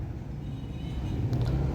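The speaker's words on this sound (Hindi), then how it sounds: "गाड़ी को ड्राइव करते हैं और चेक कर लेते हैं कि कोई मसला तो नहीं है" Interior of a 2007 Toyota Vitz with a CVT while driving, a steady low engine and road rumble, close and even, with a faint brief squeak near the end.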